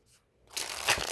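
A deck of moon oracle cards is shuffled in one quick, close, crisp riffle lasting under a second.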